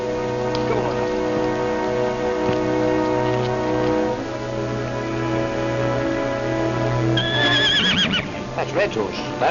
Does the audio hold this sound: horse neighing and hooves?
yes